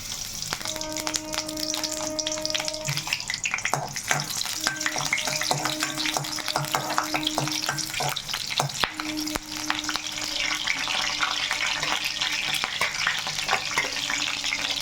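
Green chillies frying in oil give a busy, close sizzle with frequent crackles and stirring scrapes, steady throughout over a faint tonal hum.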